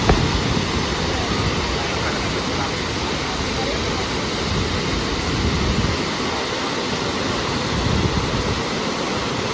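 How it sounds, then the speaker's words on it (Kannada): Water in full spate roars loudly and steadily for about ten seconds, a dense, unbroken rush with no other sound standing out. "ಮೈದುಂಬಿ ಹರಿತಿರುವ ನೀರಿನ ಶಬ್ದವನ್ನು ಕೇಳಿಸ್ಕೊಂಡಿದ್ದಾರೆ"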